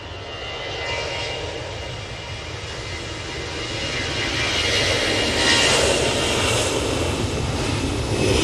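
A Fly One Airbus A321 jet arriving at Manchester Airport, a steady broad engine roar that swells gradually louder toward the end, heard at a distance with no talking.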